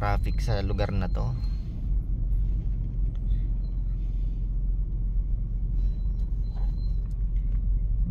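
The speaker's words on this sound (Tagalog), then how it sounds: "Medyo ma-traffic sa lugar na to." Steady low road rumble of traffic heard from inside a vehicle on a congested stretch of highway between Manila and Mindanao, with a voice talking briefly over it at the start.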